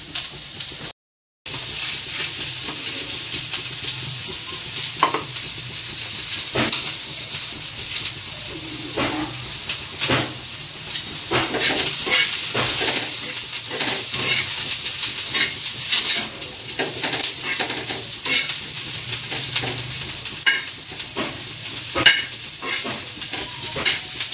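Onion frying in a pan with a continuous close sizzle lasting throughout, with frequent small clicks and scrapes of stirring and occasional faint clatter.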